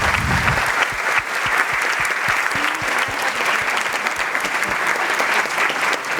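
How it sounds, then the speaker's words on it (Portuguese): Audience applause at a data journalism awards ceremony, given in memory of a journalist. Loud, sustained, even clapping from a large crowd continues for the full length without a break. "eu peço agora uma salva de palmas em memória do nosso"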